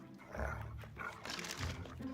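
A dog barks and growls faintly in the background, a few rough, low vocalizations spread over two seconds at a distance.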